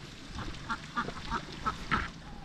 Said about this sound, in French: Des petits canards.